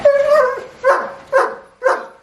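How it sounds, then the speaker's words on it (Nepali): A dog barks loudly and close by, giving four sharp, yelping barks in quick succession with short gaps between them, and no voices are heard. "म फेरि टाढा जान्छु फेरि भुक्छ"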